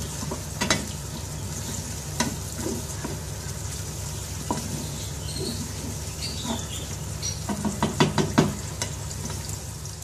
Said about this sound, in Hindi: प्याज को हम हल्का सा फ्राई करेंगे। 3 से 4 मिनट के लिए इसको फ्राई करेंगे।